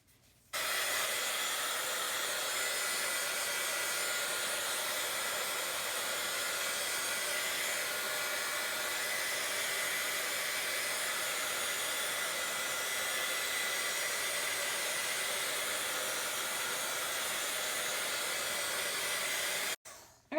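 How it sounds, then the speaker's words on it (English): A handheld heat tool blows steadily to dry watercolor paint, a constant loud whooshing hiss running for about nineteen seconds, switching on at the start and off near the end. "I'm going to take my heat tool now, and I'm going to dry this so that we don't have to wait quite so long for it to dry"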